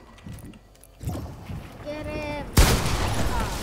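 Gunfire in the video game Fortnite Zone Wars: a sharp, loud burst near the end follows quieter game sounds and a tonal effect, with a player talking throughout.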